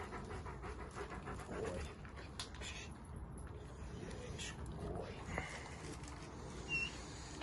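A dog pants steadily and close by while walking on a Firepaw dog treadmill during a training session, the rapid breathy rhythm running throughout under faint background noise and shuffling.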